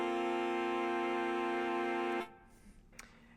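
A horn section holds a sustained, rich chord voicing with a ninth substituted in the second voice, ringing steadily for about two seconds before cutting off into quiet room sound.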